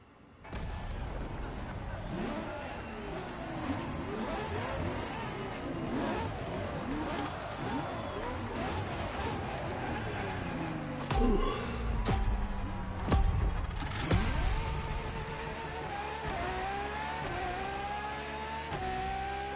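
Ferrari supercar from Maranello, in the racing game The Crew Motorfest set in Hawaii, its engine roaring and revving continuously with shifting pitch sweeps and a few heavy thumps, loud and close, mixed with game sound effects.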